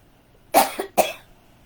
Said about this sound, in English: Got a little coughing going on.